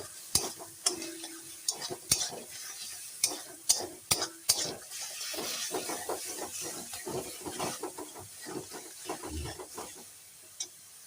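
Ground coriander, Kashmiri chili powder and meat masala are stirred and fried in a pan for a chicken dish, with soft sizzling, scraping strokes and several sharp spoon taps on the metal, close and with no talking.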